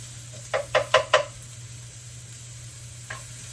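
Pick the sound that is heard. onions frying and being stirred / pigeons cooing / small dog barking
onions frying and being stirred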